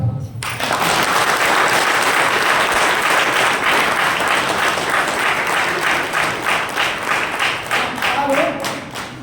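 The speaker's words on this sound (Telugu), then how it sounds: "ఒకసారి గట్టిగా క్లాప్స్." Loud applause from an audience at a network marketing business meeting fills the room, dense and sustained clapping that gradually settles into a slower, rhythmic beat toward the end.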